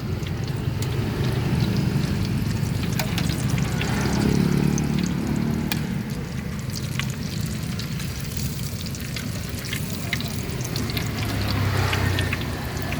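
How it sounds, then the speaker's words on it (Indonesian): Egg roll batter deep-frying in hot oil in a wok gives a steady, dense sizzle and bubbling that stays loud and close throughout, with no talking over it. "dan ini proses penggorengan silung teman-teman"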